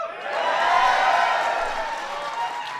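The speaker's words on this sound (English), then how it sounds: "I knew you guys would clap on that one" An audience at a White House ceremony honoring the 2013 Super Bowl champion Seattle Seahawks breaks into sustained applause, a broad wash of clapping from a large crowd that swells and then holds for a few seconds.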